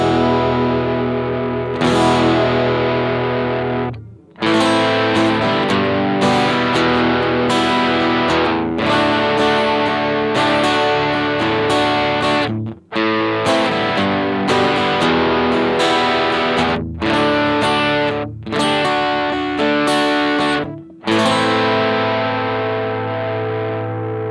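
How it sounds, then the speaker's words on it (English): An electric guitar plays chords through a Fender Smolder acoustic overdrive pedal, the tone growing gritty and saturated as more overdrive is blended in, with brief pauses between loud strummed phrases. "so we'll start to hear the overdrive come in."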